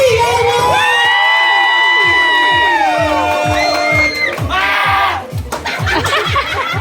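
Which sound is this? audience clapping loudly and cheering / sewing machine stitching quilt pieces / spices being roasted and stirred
audience clapping loudly and cheering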